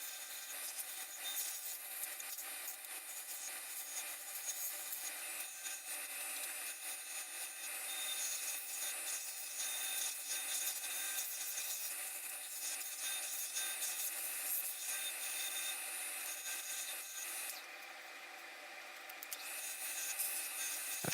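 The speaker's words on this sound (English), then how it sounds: "and then I went back to sanding" Sanding an oak and walnut bowl spinning on a wood lathe makes a steady, hissing abrasive rub that continues evenly throughout, with a brief dip in intensity near the end.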